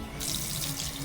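Water from a freshly installed bathroom faucet runs cold into the sink with a steady, close hiss that starts abruptly and keeps flowing without voices.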